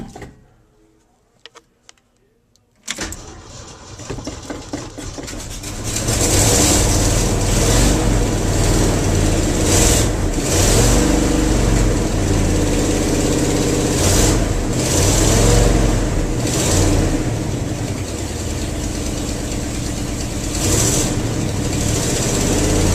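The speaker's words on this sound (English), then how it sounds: "Let's give that cold start a try." A 1974 Ford F250 engine cold-starts after a few seconds of near silence, cranking then catching into a loud rough idle with repeated revs rising and falling, alone and close.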